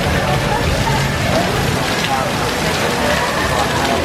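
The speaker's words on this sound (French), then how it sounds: "d'un coup il s'est mis à pleuvoir des cordes" A sudden heavy tropical downpour in Thailand hammers down in a steady, loud, unbroken hiss of rain striking surfaces nearby. Muffled voices blend faintly into the drumming.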